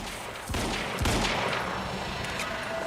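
Carbine gunfire in a Remedy video game: quick bursts of sharp, cracking shots in rapid succession, loud and close, followed by ringing echoes and a dense layer of in-game noise.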